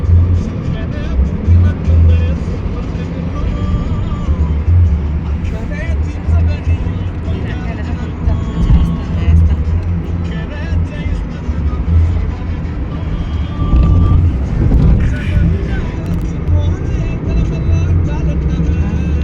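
Steady road and engine rumble from inside a car travelling along a village road toward Ponduru, continuous and fairly loud throughout with no speech.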